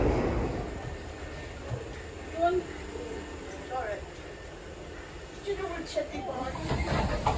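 Steady low rumble and rattle inside a Merseyrail Class 507 electric train carriage, with faint squeaks and creaks over the continuous running noise.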